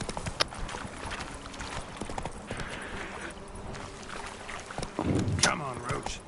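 In The Witcher 3, the horse Roach gallops with steady rhythmic hoofbeats under continuous game ambience and effects, with a voice speaking over it.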